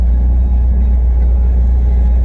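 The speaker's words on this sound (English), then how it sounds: "So you can see the car idles really nice and steady." A 1979 Fiat Spider with an upgraded 32/36 carburetor idles steadily, its low, even engine rumble continuous and fairly loud throughout, with no voices over it.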